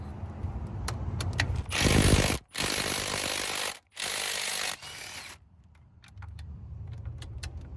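A Milwaukee M12 cordless ratchet works on a Subaru during a head gasket job in a parking lot, running in three loud whirring bursts of about a second each, separated by short pauses, with faint clicks and jangles around them.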